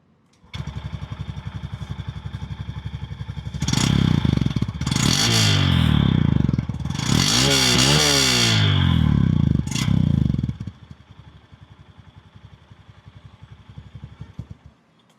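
A 2026 Honda SP 125 motorcycle runs with its engine and stock exhaust, a steady idle rising into two swelling revs in the middle before settling back to a quieter idle, close to the microphone with no talk.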